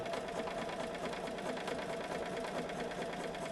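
A sewing machine stitches quilt block pieces with a continuous, even whir and fast needle pulsing throughout, moderately quiet and close, with no voices.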